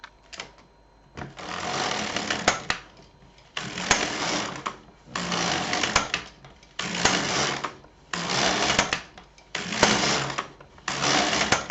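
A Brother LK 150 knitting machine carriage sweeps back and forth across the needle bed knitting socks, each pass a loud rattling whoosh lasting about a second, separated by short quiet gaps, in a steady repeating rhythm.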